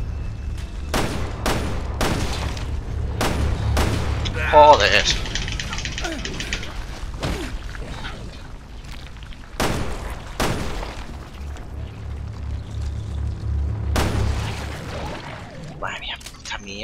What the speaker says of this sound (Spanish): Al final he pegado disparos por todo el cuerpo. He perdido ahí más balas.